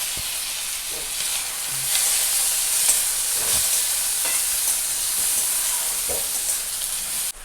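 Tomatoes land in hot oil with onions and fry with a loud, steady sizzle and hiss, broken by a few faint clinks of a stirring utensil.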